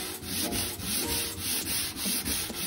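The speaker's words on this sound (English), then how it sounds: "So sanding block, about a 240, and then just key sand." Hand sanding of wood with a 240-grit sanding block, key sanding an armoire, steady rhythmic back-and-forth scratchy strokes, close and continuous, with no talking.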